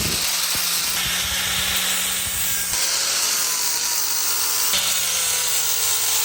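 A steel roll bar tube notch is ground clean for welding with a power tool, giving a continuous loud, harsh whine and hiss that shifts in pitch as the tool bears on the metal, with brief clicks at the start.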